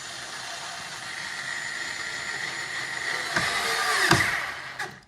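A tool drives in the last screw during a Corvette C8 light bar bezel installation, a steady whirring mechanical run close by with a couple of sharp knocks near the end before it stops.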